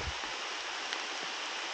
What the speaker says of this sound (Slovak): alebo počkám, či neprestane pršať.